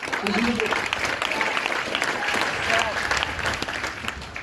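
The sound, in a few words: audience applause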